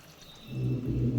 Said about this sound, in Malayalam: ഈ പുളിവെള്ളം നമുക്ക് ഒഴിച്ച് കൊടുക്കാം.